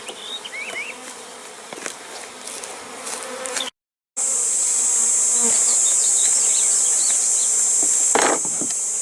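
A dense, steady buzzing of many honey bees, close and loud, after a short stretch of quieter outdoor ambience and a brief cut, as bees are returned to the hive.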